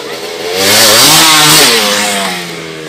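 Close, loud motocross dirt bike engine revving at a practice ride, the pitch climbing through a strong rev and then easing back down.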